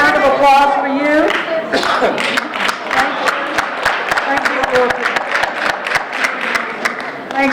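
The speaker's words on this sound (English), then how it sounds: "And a round of applause for you." Scattered clapping from a small audience at a 2018 congressional candidate meeting: a voice speaks at the start, then the hands settle into a thin, fairly regular patter of individual claps.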